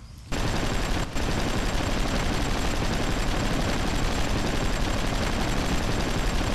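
Mortar and gunfire in the post-apocalyptic vehicle combat game Hard Truck: Apocalypse, a dense, steady roar of rapid firing that starts abruptly and runs continuously, loud and close, with a brief dip near the one-second mark.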